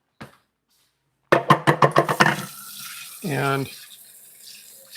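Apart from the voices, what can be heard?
rinsing off a dish under running tap water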